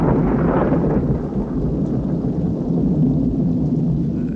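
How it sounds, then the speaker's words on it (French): A thunderstorm with heavy rain in a film's final scene: a steady, loud roar of rain with low rumbling throughout, dense and continuous with no voices. "cette scène finale qui se fait sous la pluie dans les deux films"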